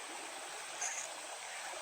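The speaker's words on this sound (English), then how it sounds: "First creek crossing." A forest creek at a hiking trail crossing gives a steady, soft, hissing wash of flowing water, faint and unbroken with no voices.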